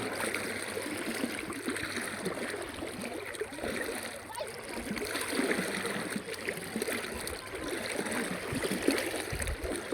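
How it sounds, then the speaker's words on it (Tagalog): Strong sea current swirling and churning at the Bungan sandbar in Talibon, Bohol, a continuous rushing, splashing water noise with someone talking over it throughout. "Yung dagat, umiikot-ikot."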